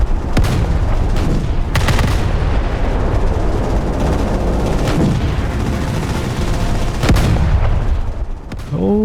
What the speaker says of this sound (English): Gotta love all these AA guns shooting.